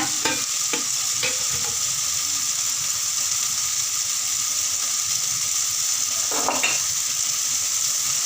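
Brinjal with chilli powder and spices sautéing in a pan for kathirikkai kadayal, a steady close sizzle with a few scraping stir strokes of a spoon, no talking.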